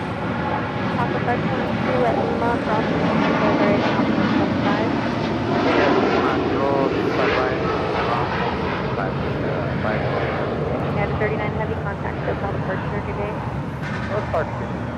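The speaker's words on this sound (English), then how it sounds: "We have United Airlines Flight 39 Heavy now rolling on 25 right." United Airlines Boeing 787-10 Dreamliner rolling for takeoff on runway 25 right at LAX, its jet engines building to a sustained roar that swells and fades slightly, with a voice talking over it.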